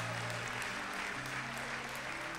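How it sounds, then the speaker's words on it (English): A church congregation claps their hands together in a dense, continuous burst of applause that fills the room evenly and sits at a moderate distance throughout. "Give them a hand clap of prayer."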